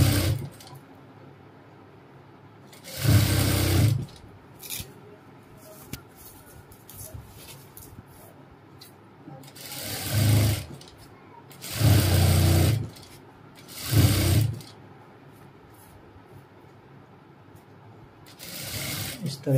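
Sewing machine stitching a cap dress, running in four short bursts of about a second each, separated by quieter stretches of handling noise, close and moderately loud.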